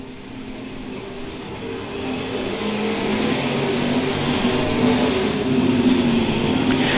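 USRA modified race cars racing at Lakeside Speedway, a loud continuous engine roar that swells as the pack comes around the oval, staying steady and heavy throughout.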